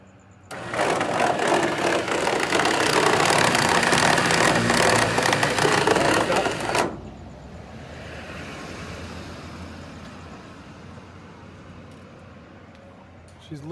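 A trailer winch hauls a salvage Polaris RZR XP Turbo aboard with a loud, steady whine and grind for about six seconds, then stops abruptly, leaving quieter outdoor background.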